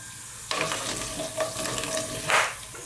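Whole spices popping and sizzling in hot oil in a pan as the base for an Indian king fish masala curry, a steady crackle with sharp pops throughout and a louder burst near the end, with no voices.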